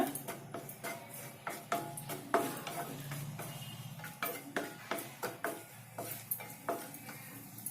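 Garlic frying and being stirred in a pan for a vegetable momo filling, with repeated scraping and clinking of a spoon against the pan in a steady rhythm over a soft sizzle, close up.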